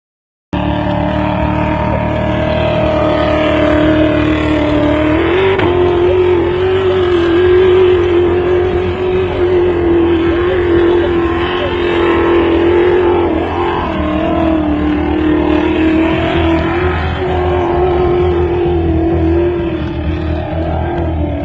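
An off-road race rig, car number 1311, climbs a desert trail at the King of the Hammers Every Man Challenge, its engine droning loudly and steadily for the whole stretch with a sustained, wavering pitch and no speech.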